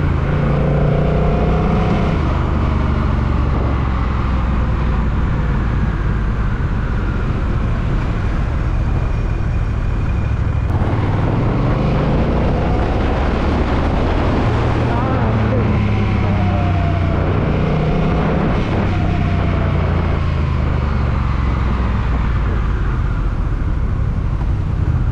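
Honda Rebel 1100 cruiser motorcycle with an automatic dual-clutch transmission, riding along: a steady engine drone under heavy wind rush, with the pitch rising and falling as the gears change.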